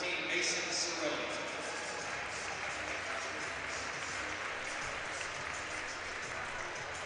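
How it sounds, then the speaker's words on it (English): A crowd at a hockey game applauds for a player, a steady broad wash of clapping that holds at an even level throughout with a murmur of voices mixed in. "Final round of applause for number 13, Mason Sorelli."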